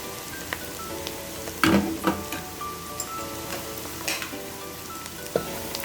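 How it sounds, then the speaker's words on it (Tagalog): Whole spices such as black pepper, cinnamon sticks, bay leaves, cumin seeds and cardamom fry in hot oil in a pan, giving a steady close sizzle with a few louder crackling pops and stirring clatter, no voices. "Pa-fried na natin to guys hanggang lumabas ang kanilang aroma o kanilang essential oil."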